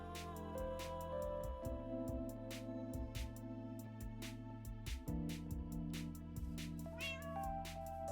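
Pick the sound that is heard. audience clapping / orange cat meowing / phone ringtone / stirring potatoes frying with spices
orange cat meowing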